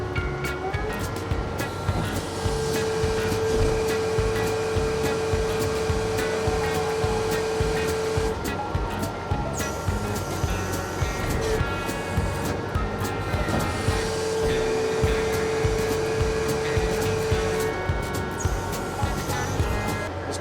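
Skid steer engine held at full throttle with the bucket tilted back, a loud continuous drone with a high steady whine as the hydraulics go into relief, close and dense, no voices.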